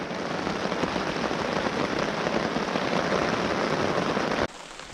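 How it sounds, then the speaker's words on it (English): Steady light rain patters continuously on a surface at a backcountry campsite on Lac Seul just after a thunderstorm, a dense even hiss that holds for several seconds before dropping off sharply near the end. "It's just light rain right now."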